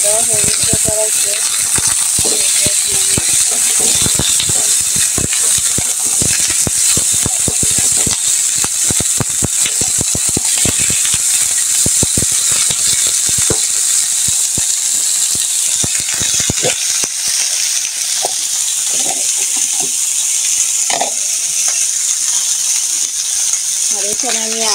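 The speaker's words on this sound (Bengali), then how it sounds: "আদা রসুন দিয়ে কিন্তু আমি ভেজে নিচ্ছি।" Eggplants with ginger and garlic stir-fry in a wok, giving a steady loud sizzle with frequent scraping and rattling stirs, and a little speech now and then.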